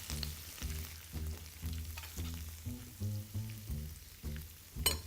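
Veal sweetbreads fry in foaming butter, a soft sizzle broken by a steady series of rhythmic low clinks and scrapes, fairly quiet and close, with no talking.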